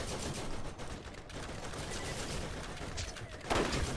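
Steady turret gunfire in Borderlands, a dense unbroken rattle of shots at moderate distance, with a sharper burst toward the end.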